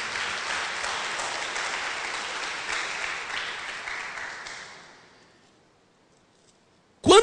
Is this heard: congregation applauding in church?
yes